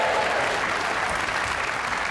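Steady applause from a crowd at a Weber Cup bowling match in the Barnsley Metrodome, a dense, even wash of clapping that fills the whole moment.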